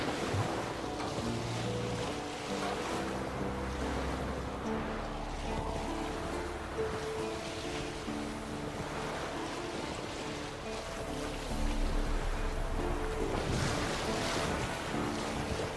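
In The Witcher 3, a boat's sails flap and flutter at sea, a steady rushing of wind and waves with a low rumble underneath and a brief swell of louder gusts near the end.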